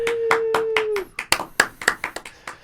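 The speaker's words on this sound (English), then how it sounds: "and then we're gonna all clap" Podcast hosts clap their hands in a studio, a quick run of about a dozen sharp, close claps that speed up and bunch together, with no talking over them.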